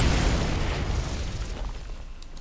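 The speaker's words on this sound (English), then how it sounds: "you get the Hyperion Battlecruiser from Starcraft just flies past and bombs everything" Hyperion Battlecruiser bombing run in Heroes of the Storm, a loud rumbling barrage of explosions that booms at the start and then rolls on and slowly fades, with no talking.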